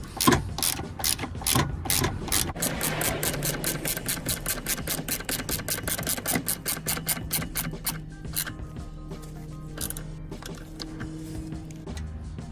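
A ratchet tightens a rear drop link on an Alfa Romeo Giulietta. It makes a long, steady run of loud, rapid clicks with no talk over it.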